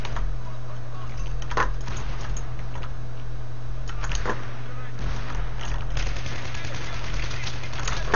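A hip-fired weapon rattles in Battlefield 3 on PC, with short bursts of sharp shots spread across the stretch over a steady low hum, and a voice talks now and then.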